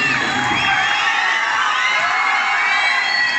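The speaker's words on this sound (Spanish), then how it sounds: "Fuerte el aplauso." An audience at a school conference hall cheering and whooping, with children's shouts mixed into a steady, loud wash of crowd noise that holds throughout.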